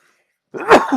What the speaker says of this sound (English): Little sneeze.